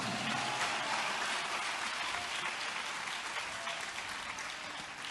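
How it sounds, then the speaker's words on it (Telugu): A church congregation at a Christian worship service claps together in a dense, steady round of applause that holds evenly and tails off only slightly at the end. "మరొక్కసారి చప్పట్లు కొడుతూ మరొక్క మారు"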